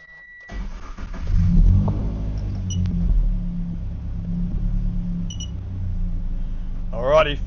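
A race car with a new gearbox and clutch starts and pulls away on its first run, the engine revving up then settling into a low, steady drone as it drives off, with a brief voice near the end.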